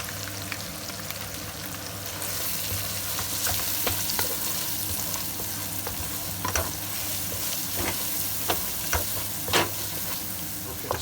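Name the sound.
masala spices frying with onions, garlic and ginger paste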